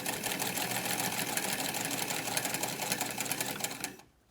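A sewing machine running a continuous straight stitch along a narrow seam on a shield-shaped waterproofer, a close, steady rapid whir and clatter that cuts off abruptly near the end, with no talking.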